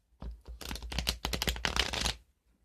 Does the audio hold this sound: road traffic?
no